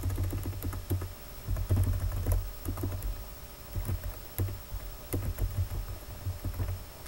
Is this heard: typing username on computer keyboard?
yes